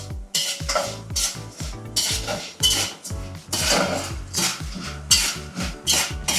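A tablespoon of black pepper stirred in a frying pan while cooking vatha kulambu, with repeated close metallic scrapes and clinks of the spoon against the pan in an uneven rhythm, over a faint sizzle.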